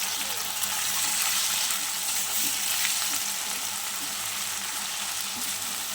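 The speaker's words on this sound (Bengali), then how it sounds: "কালো জিরে ফোড়ন দিয়ে আলুটা ভাজা শুরু করে দিলাম" Potatoes fry in oil with black cumin seeds, a steady, dense sizzle that carries evenly and close throughout with no pauses.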